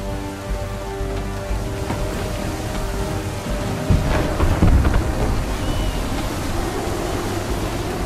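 Thunderstorm at sea in the Assassin's Creed 3 video game, a heavy low rumble of thunder building to a loud crack midway over steady rain and surf, with a low musical drone underneath.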